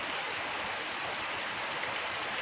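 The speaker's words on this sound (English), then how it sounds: "it doesn't look like the rain's going to stop anytime soon" Heavy rain pours down steadily, flooding over an overflowing pool, a dense, even hiss that fills the whole stretch without any voices.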